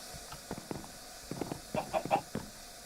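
Game-style Minecraft chicken clucks come in short bursts, a series of quick bright clucks growing louder toward the end.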